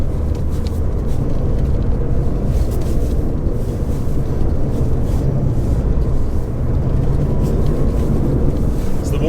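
A Porsche 993 rally car on studded tires slides on ice in Finland, its engine a loud, steady rumbling roar that holds constant throughout.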